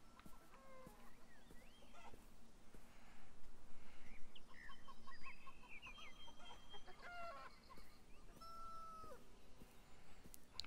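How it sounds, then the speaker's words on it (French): Chickens cluck in the video game Beyond Eyes, several birds calling in short, irregular bursts against a steady ambient game background with no talk. "Oh, c'est des poules non?"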